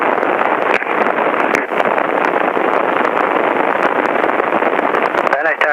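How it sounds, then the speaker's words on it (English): Helicopter rotor spinning up on the ground before takeoff, a steady loud broadband whoosh and drone filling the whole clip, close and continuous, with a brief radio-like chirp near the end. "So we're just letting the rotor build up some speed."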